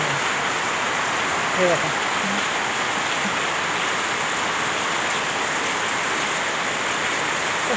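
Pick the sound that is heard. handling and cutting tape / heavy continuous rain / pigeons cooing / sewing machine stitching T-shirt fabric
heavy continuous rain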